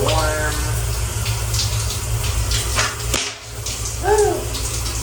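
Shower water running in a cramped bathroom on an Amtrak sleeper train, a steady close splashing hiss with a low rumble beneath, while a voice makes brief rising exclamations over it.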